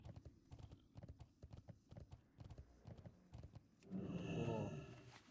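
Horse hooves clip-clop in a video game, a quick steady rhythm of hoofbeats up close, followed by a louder burst near the end that may be a whinny; no speech over it.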